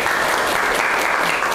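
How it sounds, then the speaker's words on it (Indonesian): A class claps for a student during a teaching session: steady, dense hand-clapping from a group that fills the whole moment at an even, moderately loud level. "Tepuk tangan untuk Meta."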